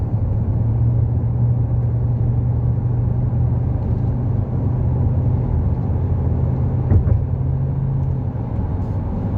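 A truck cruises at about 60 km/h, heard from inside as a loud, steady low rumble and engine drone with a brief knock near the end.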